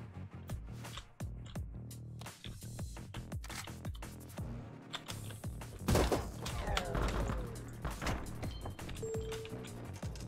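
Repeated shots from a tactical gun in a shooter game, sharp cracks in quick succession with crashes and thuds mixed in, fairly close and loud.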